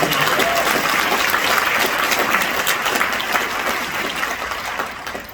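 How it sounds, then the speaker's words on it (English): An audience at the Midtown Alliance annual meeting in Atlanta gives a full, dense round of applause that starts loud and slowly thins out toward the end. "So give yourselves a round of applause"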